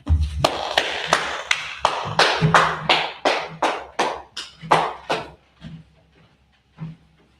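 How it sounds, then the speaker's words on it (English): A small gathering applauds, a steady run of sharp claps that thins into scattered, fading claps toward the end, with no talk over it. "let's clap it up one more time for that priest"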